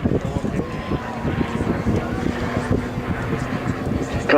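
A liquid-cooled V12 warplane engine of about 1,710 cubic inches and 1,500 horsepower drones steadily as the plane climbs over the top of a loop at an air show, carried through wind noise and crowd chatter.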